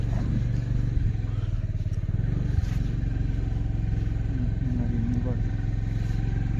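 A motorcycle rides along a mountain road near Kakani, its steady engine rumble running continuously and close throughout, with no talk over it.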